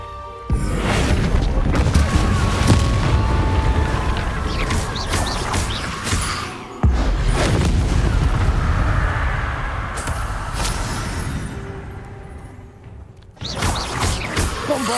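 Bombarda explosion spells in the game Hogwarts Legacy: two loud, heavy booming blasts a few seconds apart, each followed by rumbling, crashing debris, then a third burst starting at the end.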